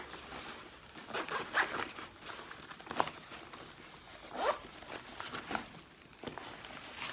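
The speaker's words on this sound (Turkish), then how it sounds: "Şöyle önde bir fermuarı var." A zipper on the front of a bag is pulled in several short, quiet strokes, close up, against a faint background hiss.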